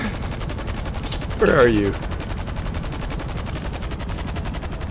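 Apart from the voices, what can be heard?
gunfire in the video game GTA V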